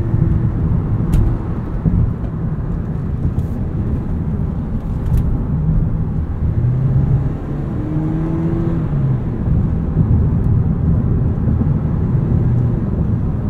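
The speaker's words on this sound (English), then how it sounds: "Let's do an acceleration test here out of the corner." Steady engine and road noise from a 2023 Toyota Prius XLE FWD accelerating hard out of a corner, a continuous near drone with rising tonal whine, no speech.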